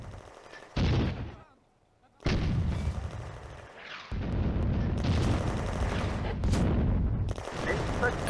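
Soviet artillery fire in the WWII game Firefight, set on the Eastern Front around Kulikova Ridge in June 1941: loud bursts of gunfire and booming shots in quick succession, broken by a short lull, then a sustained dense barrage.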